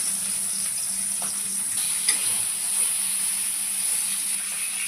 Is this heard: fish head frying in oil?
yes